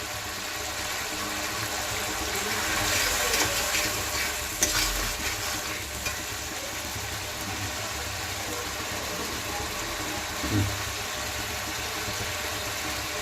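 Spice paste with turmeric fries in a pan for a duck egg curry, giving a steady close sizzle with occasional stirring scrapes and soft clatters throughout, no talking.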